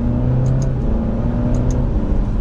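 A 2020 Alfa Romeo Giulia Sport accelerates with a steady, fairly loud engine drone and low exhaust hum from inside the cabin, holding constant throughout with a faint rising tone.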